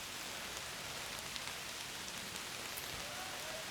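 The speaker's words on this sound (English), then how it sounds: "it's still raining out there. It's been raining most of the day" Steady rain falls outdoors as a dense, even hiss with scattered drop ticks, continuous and moderately loud throughout with no voices.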